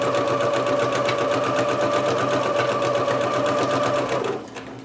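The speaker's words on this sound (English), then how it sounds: "this is just going to be a very long basted gathering stitch around this entire skirt piece" A sewing machine runs a long basted gathering stitch around a skirt piece, giving a loud, even, rapid mechanical chatter that holds steady and then fades out at the end.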